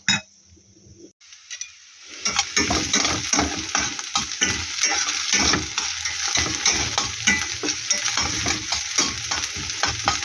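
Purslane and fried onion simmering in a covered frying pan, a steady close sizzle with soft stirring clinks that starts after a quiet second or two and runs continuously to the end.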